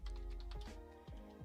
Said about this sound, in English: oh, I should type in Omada, right?